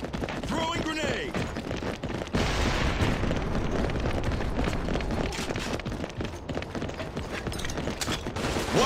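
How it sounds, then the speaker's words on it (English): A grenade goes off in the CrossfireX video game amid heavy gunfire, a loud booming burst after about two seconds followed by sustained rumbling combat noise, with a voice calling out over it. "Throwing grenade!"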